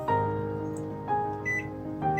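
A kitchen timer gives three evenly spaced electronic beeps, each with a tonal ring, close and clear, as it is set for 15 minutes while chicken paprikash cooks.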